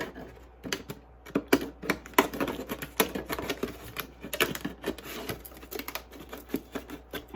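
Scissors or a blade cut through a plastic jug for winter sowing, making a close series of irregular crackling snips and crunches that go on steadily.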